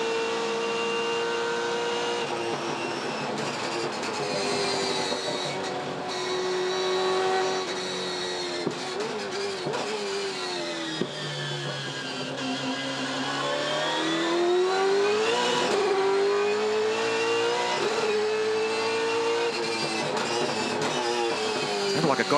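Onboard a 2015 V8 Supercar, the Erebus Motorsport entry driven by Will Davison at Sandown, its engine roaring steadily loud and close, pitch rising and falling through gear changes and revs.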